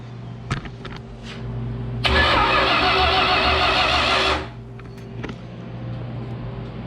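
A 318 small block Mopar engine cranks and catches, giving a loud, dense roar for about two seconds before dropping back to a lower idle hum, close up in a quiet garage.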